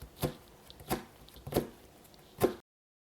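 A knife chops napa cabbage on a cutting board: four crisp, evenly spaced thuds about two thirds of a second apart, close and clear in a quiet kitchen.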